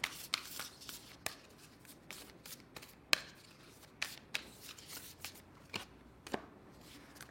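Oracle cards shuffled by hand up close, a quiet run of soft riffling and slapping taps with a few sharper snaps, irregular in rhythm, with no talking.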